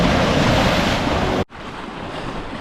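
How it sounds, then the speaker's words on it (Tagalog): Waves from a large passing ship's wake rushing and washing loudly against the shore in Ibiza, a broad churning roar mixed with wind buffeting, cut off abruptly midway and continuing more softly after. "Bigla po may agos guys, oh. Kasi dumaan po kanina yung barkong malaki."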